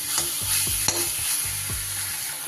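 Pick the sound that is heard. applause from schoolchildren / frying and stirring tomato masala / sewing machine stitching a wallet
frying and stirring tomato masala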